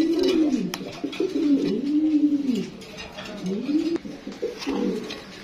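Racing and fancy pigeons at a breeding farm coo continuously in rolling, repeated phrases close by, with faint background clatter and no talk.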